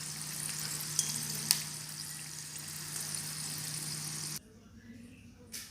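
Samosas frying in hot oil on a high flame give a steady, dense sizzle with a couple of sharp pops, which cuts off abruptly near the end into quieter background.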